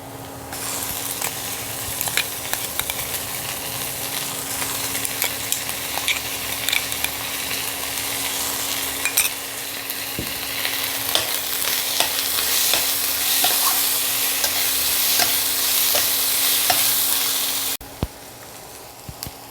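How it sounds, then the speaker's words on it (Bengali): Loud, continuous sizzle of ginger-garlic paste frying with onions, with scraping and stirring over it. The hiss runs unbroken for most of the clip, then cuts off abruptly near the end. "এবার আমি দিয়ে দেব আদা রসুন পেস্ট"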